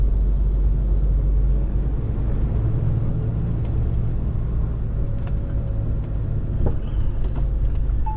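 Road traffic on a German road, a constant loud low rumble of passing vehicles and engines with faint higher clicks, no voices.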